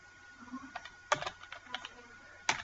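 Typing on a computer keyboard while entering a spreadsheet formula: a handful of soft, irregular key clicks with a couple of sharper taps, close and quiet, no talking.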